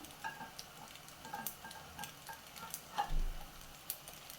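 Egg macaroni with chopped coriander being stirred in a frying pan, soft sizzling and faint scraping taps of a spoon against the pan, quiet and close with no talk.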